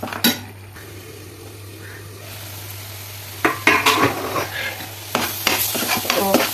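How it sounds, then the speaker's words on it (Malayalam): Onions with salt being sautéed in a pan, with a faint steady sizzle under repeated close stirring and scraping of a utensil against the pan, plus a few light clinks of metal. "ഉപ്പിട്ട് ഇതങ്ങനെ വാടട്ടെ ഉള്ളിയൊക്കെ വാടട്ടെ"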